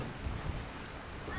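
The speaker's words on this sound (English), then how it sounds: "it's flat water, good wind, good breeze." Wind and water rushing past a sailboat under full sail on flat water on a sunny, breezy day, a steady broadband wash with gusty low rumble and no talk.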